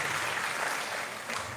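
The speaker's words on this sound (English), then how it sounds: "So a big round of applause and congratulations" Brief applause from an audience at a national-level camp ceremony at IIT Kanpur, a diffuse wash of clapping for about a second and a half, moderately quiet with no voices over it.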